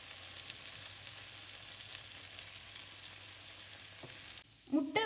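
Egg sizzles in a hot pan with torn chapati for egg kothu chapathi, a steady crackling fry throughout, ending in a short, louder clatter and stir close by.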